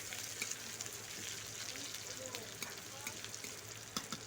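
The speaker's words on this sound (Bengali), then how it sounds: "পেঁয়াজটাকে দিয়ে একটু লাল করে ভেজে নিচ্ছি" Steady sizzling of onions frying until reddish in hot oil, a continuous crackling hiss with small pops, close and fairly quiet.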